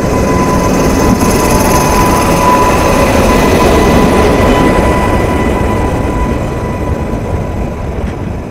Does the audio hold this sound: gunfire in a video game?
no